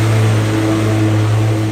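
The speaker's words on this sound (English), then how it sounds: "I apologize for that lawnmower noise." A lawnmower runs outside, its steady mid-pitched engine hum droning continuously and fairly loud for a brief stretch, with no talk over it.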